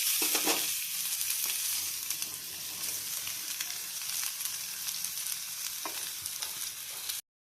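Potatoes and drumstick stems fry in a pan with a continuous loud sizzle, and occasional stirring scrapes come through before the sound cuts off abruptly. Nobody talks.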